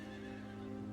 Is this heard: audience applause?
no